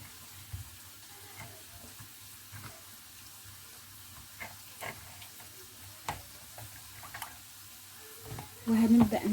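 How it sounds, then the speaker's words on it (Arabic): Chicken pieces coated in flour and egg are lowered into hot oil in a frying pan, giving a soft, steady sizzle with scattered crackles that swell louder near the end. "وكده احنا نزلنا الفراخ معانا كده في الزيت"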